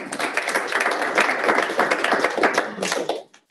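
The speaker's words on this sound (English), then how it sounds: "Give yourselves a round of applause." A dense round of applause from a sizable audience at a lead generation seminar, steady clapping throughout that tapers off at the end.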